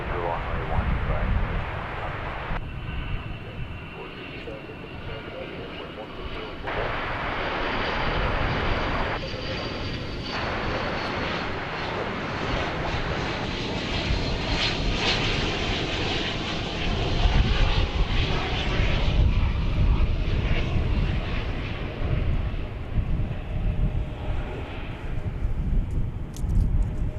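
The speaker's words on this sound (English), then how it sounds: "Such a handsome aircraft." Airplane engines roar steadily at DFW Airport during plane spotting, a loud sustained drone that swells toward the end, with a person talking intermittently over it.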